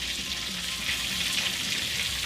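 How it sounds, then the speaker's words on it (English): Cajun-seasoned chicken being stirred to coat it, a steady broadband hiss of sizzling and mixing continuing evenly throughout, moderately quiet and with no voices. "you're just going to mix well"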